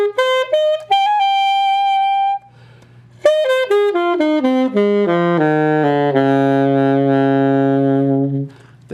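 An alto saxophone plays alone and loud and close, running through a quick rising figure, holding one note, then descending step by step to a long sustained low note.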